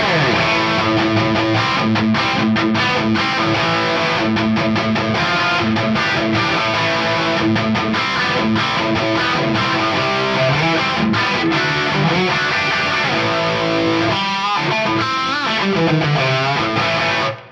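Distorted electric guitar playing continuously with a spacious reverb, notes ringing out and trailing off into a lingering tail near the end.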